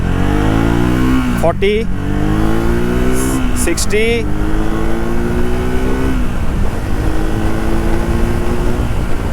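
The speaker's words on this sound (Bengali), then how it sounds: "নতুন ইঞ্জিন আসার পরে এই বাইকের থ্রটল রেসপন্স আমরা টেস্ট করব। চলুন ফার্স্ট গিয়ার থেকে শুরু করা যাক।" A Triumph Speed 400 motorcycle with a new engine revs hard through its gears, with loud, close engine pitch climbing in repeated rising sweeps as the rider shifts up, while someone talks over it.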